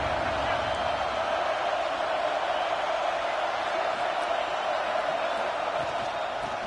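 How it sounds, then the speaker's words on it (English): A dense crowd roars continuously in a college football video game, a broad, steady wall of noise with no breaks from start to finish. "Decibels rising as the crowd gets behind this defense on 3rd down."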